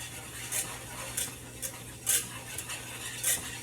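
Gravy is whisked in a pot in a handful of soft, scattered metallic clinks and scrapes against a quiet, low background hum, faint and close with no talking.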